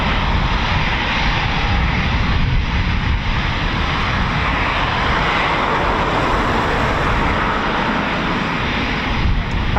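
A Eurofighter Typhoon FGR4 jet taxiing out at RAF Coningsby gives a loud, steady engine roar and whine that holds for the whole stretch, with a broad rumble underneath and no break.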